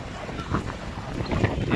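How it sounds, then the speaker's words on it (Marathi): Steady rushing sea wind buffets the microphone over a low roar of sea and waves on the coast at Harihareshwar, continuous and fairly loud throughout. "दोन तीन दिवस समुद्रात सुद्धा वारा आहे लाटा वगैरे"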